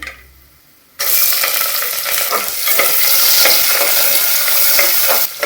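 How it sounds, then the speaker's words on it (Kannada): Onion sizzling in hot oil, starting abruptly after a quiet moment and holding a loud, close, continuous crackle with stirring for several seconds. "ನಾವು ಈರುಳ್ಳಿನ ಚೆನ್ನಾಗಿ ಎಣ್ಣೆಗೆ ಬಾಡಿಸ್ಬೇಕಾಗ್ತದೆ"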